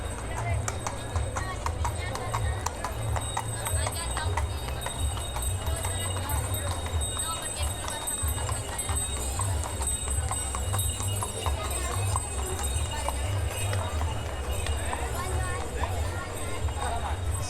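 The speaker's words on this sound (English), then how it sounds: "all the horsemen and the horse and carts that we see coming up here" Horses and horse-drawn carts clip-clop steadily along a street during the Feria del Rosario in Fuengirola, Spain, with continuous hoof beats under background voices and street bustle.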